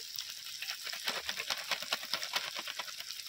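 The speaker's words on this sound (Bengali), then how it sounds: "মশলাটা আমি খুব ভালো করে কষিয়ে নিয়েছি" Spice masala for chicken curry fries in a pan with a close, crackly sizzle, broken by rapid irregular pops and stirring scrapes.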